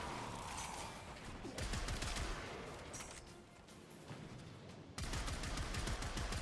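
Komorex rifle gunfire rattles in rapid bursts during Warframe gameplay with Harrow, dense repeated shots with brief pauses, loud and close, with no talking.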